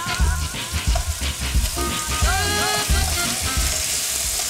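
Chicken fries in a pan with a loud, dense sizzle and spatter, close by, as pieces are turned over with bumps and scrapes.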